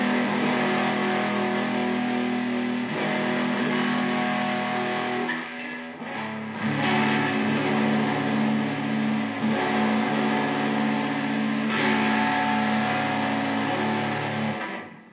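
An instrument played through a distortion effect on stage rings out loud and sustained, with held, buzzing chords that break briefly around the middle before resuming.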